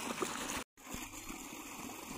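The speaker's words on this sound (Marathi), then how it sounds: "अशा प्रकारे सकाळी पाणी द्यायचं काम चालू आहे" Irrigation water runs through a maize field in the morning as a faint, steady trickle and wash of flowing water, interrupted by a brief gap.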